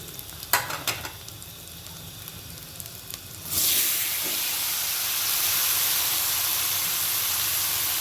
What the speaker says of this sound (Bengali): মাছগুলো একসঙ্গেই ঢেলে দেব।